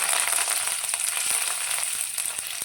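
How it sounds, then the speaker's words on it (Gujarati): Mustard seeds, white sesame seeds and curry leaves sizzle steadily in hot oil, a dense, loud crackling hiss with scattered sharp pops, continuous and close throughout with no voices. "તો હવે તેની અંદર આપણે અડધી ચમચી જેટલી રાઈ એડ કરીશું સાથે આપણે એક ચમચી સફેદ તલ લીધા છે તે અંદર એડ કરીશું"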